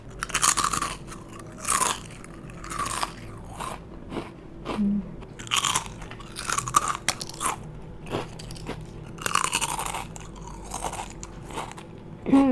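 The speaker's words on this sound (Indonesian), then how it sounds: "Kalian denger kan? Langsung hancur banget di mulut," Loud, close crunching and chewing of a crisp snack, repeated bites breaking apart in irregular bursts with brief pauses between.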